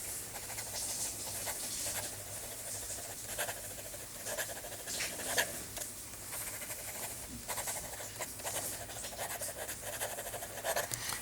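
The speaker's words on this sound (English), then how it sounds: "Okay, fast writing." A fountain pen with a medium nib writing fast on paper, a steady scratchy rustle with quick strokes and small ticks, fairly close and continuous over a faint background hiss.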